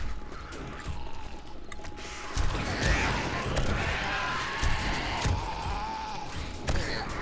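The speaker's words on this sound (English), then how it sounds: "They're really enjoying banging the catwalk for some reason." Zombies in the survival game 7 Days to Die bang on a metal catwalk, producing repeated irregular thuds and clanks with creaking metallic ringing, moderately loud over a low background.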